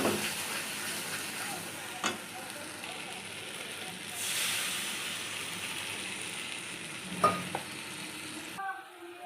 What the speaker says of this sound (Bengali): ঝোলটা দেখুন ফুটে গেছে